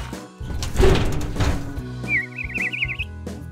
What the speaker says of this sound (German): Hör mal, Spatzefatz, such dir lieber ein anderes Plätzchen